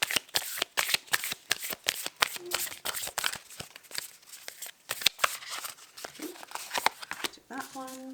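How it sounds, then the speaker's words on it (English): A card is drawn from a handled deck, making rapid papery flicks and riffling snaps in a quick, uneven rhythm. They stay close and crisp, and near the end a short tonal sound breaks in. "I'm going to draw a card from here."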